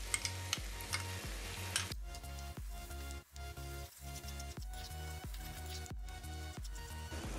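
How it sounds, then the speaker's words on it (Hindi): Chicken pasta with red chili powder and pasta sauce stirs in a hot pan with a soft, faint sizzle, broken up by repeated scraping strokes of a spoon. "इसे 20 से 30 सेकेंड सॉटे करने के बाद हम जो पास्ता सॉस था वो डाल देंगे।"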